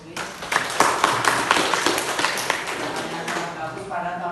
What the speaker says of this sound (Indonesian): Tepuk tangan dulu untuk Lutfi.